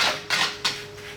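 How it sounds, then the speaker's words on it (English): A small knife trims the edge of homemade spinach-and-egg pizza dough, giving three short scraping taps against the pan in quick succession, close and fairly quiet. "I'll just do that with a little knife on the side here. Just go around and trim it."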